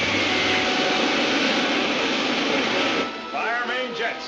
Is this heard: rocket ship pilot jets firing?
yes